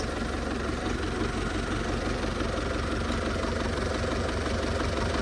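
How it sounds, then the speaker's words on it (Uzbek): A Belarus 82.1 tractor diesel engine idles close by, a loud, steady, even rumble with an unbroken rhythmic knock and no voices over it. "Motorlari ham o'ta tiniq ishlab turibdi, soatday sanayapti."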